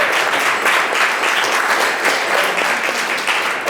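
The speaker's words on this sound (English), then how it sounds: "round of applause for the Prez for shepherding Arcadia through this" Audience applause at a Mirror Room dedication event, steady dense clapping from a crowd, loud and sustained throughout with no speech over it.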